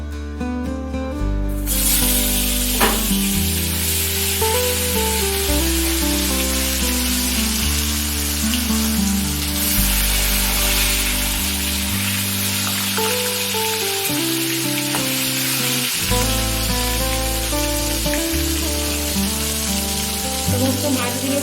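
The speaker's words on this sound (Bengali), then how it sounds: "এবার এই মাছগুলোকে ভেজে নেব।" Katla fish pieces fry in hot oil, giving a steady, hissing sizzle throughout, heard beneath prominent background music.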